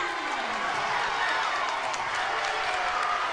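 A basketball arena crowd roars and cheers after an and-one steal and layup, a loud, dense, sustained wall of voices and applause filling the whole moment with no single voice standing out.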